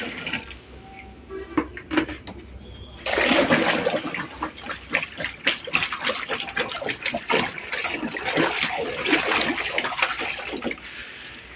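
A mugful of lime-based calcium solution poured into water: a sudden rushing gush of liquid followed by a long, uneven splashing and gurgling pour, close and fairly loud, after a quieter stretch of small handling sounds.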